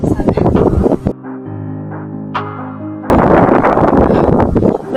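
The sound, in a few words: strong wind on mountain trail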